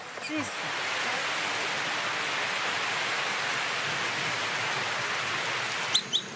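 Steady heavy rain pours down as a dense, even hiss throughout, with a brief voice near the start and a couple of knocks near the end.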